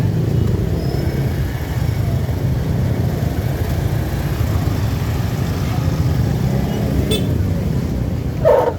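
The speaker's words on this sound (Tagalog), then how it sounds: "dami ng sasakyan dito sa Naga City" Busy road traffic in flood-hit Naga City, with a steady near rumble of many car and bus engines idling and crawling, dense and continuous throughout with a brief louder burst near the end.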